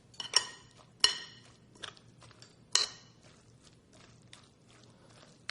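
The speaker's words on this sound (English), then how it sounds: "And then we just stir up the ingredients." A big spoon tossing and stirring Greek cucumber salad in a bowl, heard as a few sharp clinks and scrapes spaced irregularly, close and fairly loud against a quiet background.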